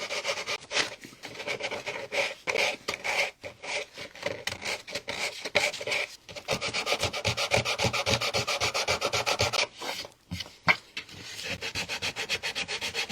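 A small hand sander is rubbed over a wooden piece before milk paint, giving a close, steady scratchy swish in quick back-and-forth strokes, continuous with a few short pauses.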